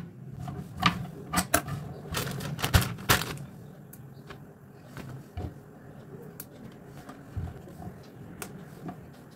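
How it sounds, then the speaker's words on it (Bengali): Knife chopping spring onions on a cutting board in a home kitchen, a run of sharp close taps in uneven bursts early on, then sparser, quieter cuts. "পেঁয়াজকলি কাটছি"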